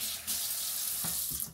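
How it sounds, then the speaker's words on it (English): Tap water running steadily into a sink while hands are washed with soap, a constant close hiss of flowing water with a few brief splashy shifts, no talking. "let me get some soap and water on your hands right quick."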